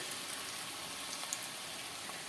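Small balls of idli-batter bonda frying in hot oil, a soft, steady, even sizzle with faint crackles, quiet and close with no voices.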